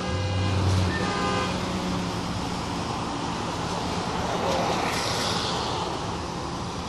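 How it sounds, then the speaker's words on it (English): Busy traffic flows through a shopping plaza: a steady wash of passing cars and road noise, with a short car horn toot near the start, fairly loud and continuous. "It's very busy. Traffic is coming and going."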